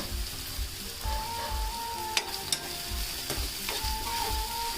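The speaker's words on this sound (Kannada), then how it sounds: "ಚೆನ್ನಾಗಿ ಮಿಕ್ಸ್ ಮಾಡಿಕೊಂಡು ಅದು ಇವಾಗ ಚೆನ್ನಾಗಿ ಫ್ರೈ ಆಗಬೇಕು ಎಣ್ಣೆಲಿ" Slit green chillies fry in hot oil with mushroom masala, a steady close sizzle running throughout, broken by a few sharp scraping stirs of the spoon in the pan.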